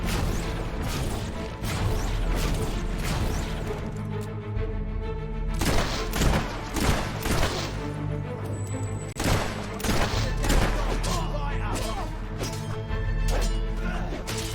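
Gunfire from the video game Fable 3 arrives as repeated sharp cracks and crashing impacts in an irregular fusillade over a busy game soundtrack and effects.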